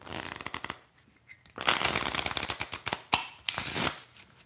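A deck of playing cards is riffle shuffled in crisp rapid bursts of fluttering clicks, close and fairly loud, in two or three separate shuffles with brief pauses between them.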